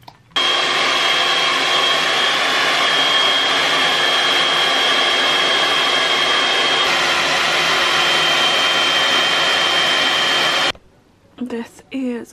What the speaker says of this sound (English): I'm gonna quickly blow dry my hair